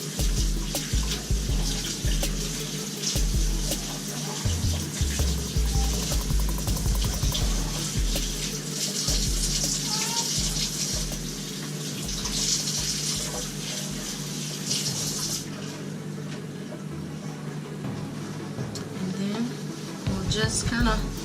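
Water runs steadily from a tap onto a melamine sponge while cleaning a stovetop, a continuous splashing hiss with shifting gurgles, close and moderately loud, with a change in flow partway through.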